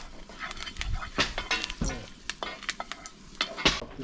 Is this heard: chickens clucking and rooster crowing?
no